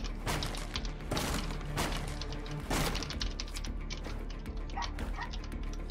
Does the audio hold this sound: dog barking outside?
yes